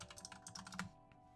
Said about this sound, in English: I do like this card I'm typing right here.